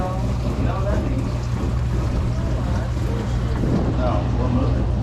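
A kitchen garbage disposal or dishwasher runs with water flowing, making a steady broadband rush over a low constant hum that stays even throughout.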